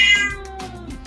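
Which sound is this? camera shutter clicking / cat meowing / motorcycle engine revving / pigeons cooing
cat meowing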